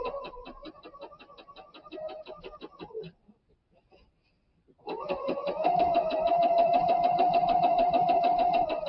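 A sewing machine stitching fabric while its blade trims the edges runs in a rapid, steady mechanical chatter, stops briefly, then resumes in a longer continuous run, close and alone.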